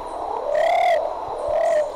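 Plumbeous pigeon (Patagioenas plumbea) from San Cipriano calling: two mellow, arched coos close by, the first fuller and louder, the second softer, with a quiet pause between.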